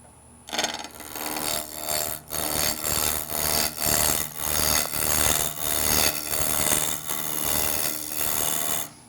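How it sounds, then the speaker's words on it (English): A spindle roughing gouge cuts a wood blank for a mortar and pestle spinning on a lathe, giving a steady close scraping, rasping hiss with rhythmic swells as the tool moves along the work. "I will be using a spindle roughing gouge."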